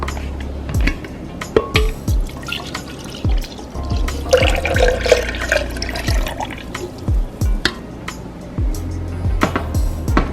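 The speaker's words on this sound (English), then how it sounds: "So I will go ahead and pour my orange juice in the blender." Freshly squeezed orange juice being poured into a blender in a kitchen, a run of liquid splashes and drips with scattered sharp knocks, close by and moderately loud, with no talking.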